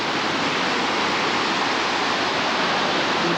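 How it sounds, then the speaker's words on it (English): A big waterfall in snowy surroundings gives a constant, dense, loud rushing roar with no breaks, like heavy broadband noise from nearby falling water. "Now that part right over there is the big waterfall."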